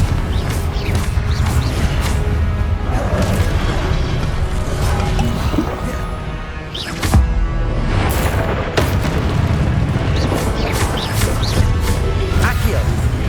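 Confringo explosive spell blasts in Hogwarts Legacy, loud booming impacts and crashes over a dense, continuous layer of game sound, with a voice speaking throughout.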